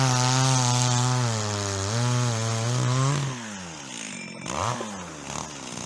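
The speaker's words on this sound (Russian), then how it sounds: "Пила орет." A chainsaw cutting firewood in a village yard roars loudly at a steady high pitch, then drops in speed and sputters toward idle, with no talking.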